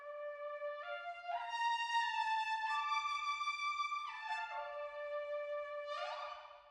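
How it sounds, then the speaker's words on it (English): A trumpet with a bucket mute plays a short series of sustained notes, sounding soft, dark and rounded, alone without accompaniment. "The bucket mute sounds like this."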